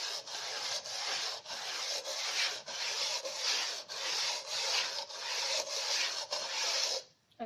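A sharpening stone is rubbed along a speed skate blade in even back-to-front strokes, a close, gritty scraping repeated rhythmically about twice a second.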